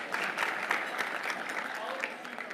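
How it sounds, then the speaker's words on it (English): An audience at an awards luncheon breaks into steady, dense applause that holds even and full for the whole stretch, with a faint murmur of voices mixed in. "Can we get a round of applause?"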